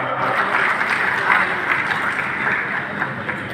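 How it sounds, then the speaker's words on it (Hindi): Applause from the audience at an eye-donation family honouring ceremony in Satna, Madhya Pradesh, a steady dense clapping wash with crowd murmur, sustained and fairly loud throughout. "मैं जोरदार तालियां चाहूँगा।"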